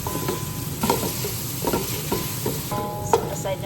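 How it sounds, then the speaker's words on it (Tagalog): Mushrooms with salt stir-fried in a pan, a continuous close sizzle broken by repeated scraping strokes of the spatula at an uneven rhythm. "mushroom, salt, stir fry natin muna"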